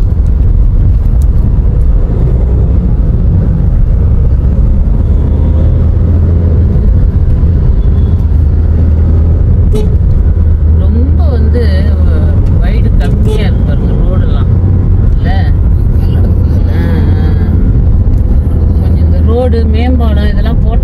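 Steady night traffic on Avinashi Road in Coimbatore, heard from inside a moving vehicle, with a loud continuous engine and road rumble, passing vehicles and occasional horn-like tones throughout.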